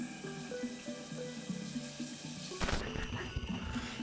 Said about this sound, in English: I'm gonna have a nice cold shower